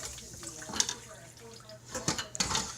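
Tap water runs onto a hot wok to cool its surface before cleaning, during a fried rice and orange chicken cooking session, with splashing and metallic clanks close by under brief talk.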